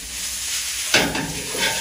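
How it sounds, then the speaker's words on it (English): Parsley being mixed into artichoke and pasta in a pan for Sardinian bavettine ai carciofi: a quiet moment, then a sudden clatter of stirring and a soft sizzle that carries on close by. "we need to mix the parsley"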